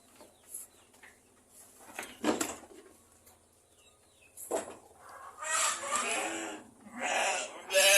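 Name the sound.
sheep bleating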